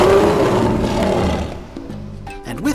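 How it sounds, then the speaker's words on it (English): A lion's roar from a children's cartoon garage scene, a loud, close, drawn-out growling roar that fades into tonal, engine-like sounds near the end, with no speech. "Give a roar, Mr. Lion."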